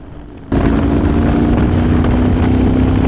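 A Royal Enfield Continental GT 650 motorcycle with belt drive ridden at speed, a loud sustained engine drone with steady tonal hum and wind rush that starts abruptly after a quiet moment.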